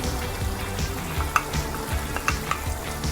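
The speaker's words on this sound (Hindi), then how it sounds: "नमक मिर्च और हल्दी के साथ इसकी थोड़ी देर भुनाई करने के बाद" Chicken karahi fries in a pan with salt, chili and turmeric: a close, continuous sizzle broken by the scrape and clatter of stirring, with no talking.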